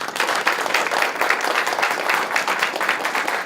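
Sustained, dense applause from an audience at a city employee-of-the-month ceremony in Portsmouth, filling all 3.5 seconds at a steady, fairly loud level with no talk over it.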